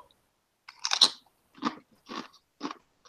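A One Chip Challenge chip is bitten and crunched close up: one loud crisp bite followed by three separate crunching chews at an even pace, with silence between and no talk.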